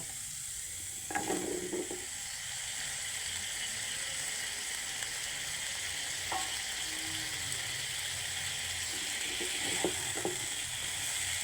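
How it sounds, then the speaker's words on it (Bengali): Okra pieces fry in sautéed masala for a tengra fish curry, giving a constant, fairly quiet sizzle. Occasional light clinks and scrapes of a utensil break through it. "এখন কষানো মশলায় ঢেঁড়স ছেড়ে দেব।"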